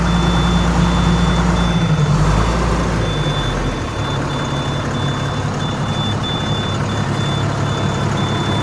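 A 2007 International 4300 truck with a 190 HP six-cylinder Navistar engine idles with a deep rumble, while a steady reversing beeper chirps repeatedly throughout. The low engine drone eases after a few seconds.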